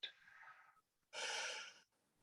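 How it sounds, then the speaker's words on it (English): Slow, deep human breathing: one long inhale followed by a strong, airy exhale, close and clear against a quiet background. "we're going to take the first deep breath in"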